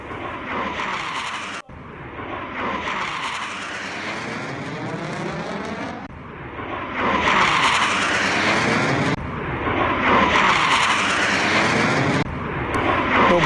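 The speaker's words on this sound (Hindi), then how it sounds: "राफेल की गर्जना जब देश की राजधानी में यूं हो रही है" A Rafale fighter jet roars across the sky over Delhi during a Republic Day parade flypast, a loud sustained jet roar swelling and fading in repeated passes with no voices.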